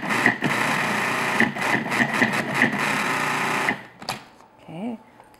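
A food processor pulses pastry dough for a chicken pot pie, with a steady loud motor whir for about three and a half seconds, then it stops and a short scrape and a brief voice follow.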